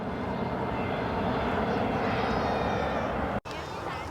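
A passenger plane departing Perth Airport for Bali produces a loud, continuous engine roar that fills the whole stretch without a break.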